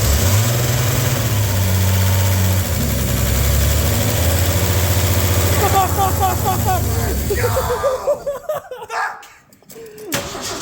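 A cold 1984 Ford F-250 engine with slightly off timing runs loud and close with a steady, rough rumble, then falters and sputters near the end.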